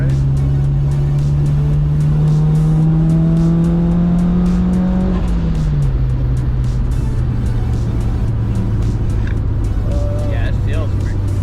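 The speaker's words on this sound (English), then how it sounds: "That turbo sounds so good." A Mitsubishi Lancer Evolution IX's upgraded turbocharged engine drones loudly from inside the cabin, its pitch rising and then dropping as it shifts, with road noise and people talking over it.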